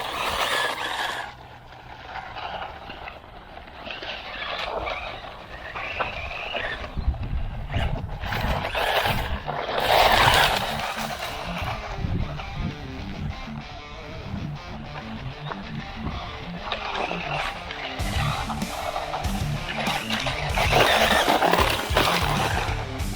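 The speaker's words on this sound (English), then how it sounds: "Let's see how it goes on the gravel." A HOSIM M13 MOXLIN 3S brushless short course RC truck drives over gravel, with whining motor bursts and crunching, scattering stones that rise and fall as it accelerates and slows nearby.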